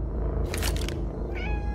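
A cat meows once clearly and close, a short bright cry followed by a softer rising tone, over low background hum with no talking.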